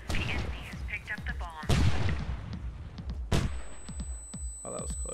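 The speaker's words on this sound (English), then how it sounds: "Boy, Dante threw a frag." A frag grenade goes off amid gunfire in the H-Hour: Worlds Elite shooter game, with sharp blasts and pops scattered over several seconds and voices talking through the action.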